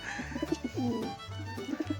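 Pigeons coo close by in soft, repeated throaty bursts, several calls overlapping in quick succession.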